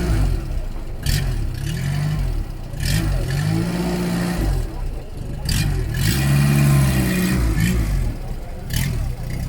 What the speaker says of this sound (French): Le bruit typique du Renault.